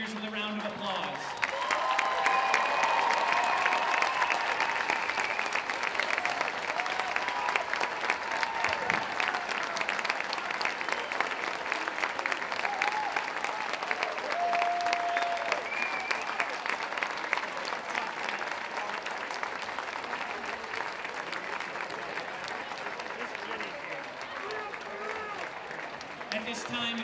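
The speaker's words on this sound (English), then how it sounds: "would you recognize these seniors with a round of applause?" Sustained audience applause for graduating seniors at an MIAA Division 3 high school swimming championship, a steady, dense wash of clapping with some crowd noise that carries evenly and loudly for nearly the whole stretch.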